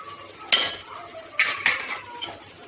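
A ground paste of onion, tomato, green chili and mint is mixed in a pan of oil for a mutton leg curry, with a few sharp metal scrapes and clinks of a ladle, close up.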